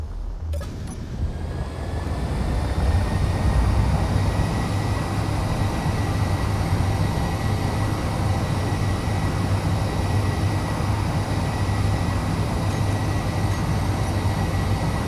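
A steady, loud, low rumbling roar of spaceship thrusters in Space Engineers runs continuously after a brief start, with a dense hum and no talk.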